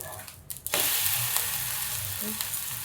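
Melon (chibud) pancake batter sizzles and fries steadily on a hot pan, a loud continuous crackle after a brief clatter at the start.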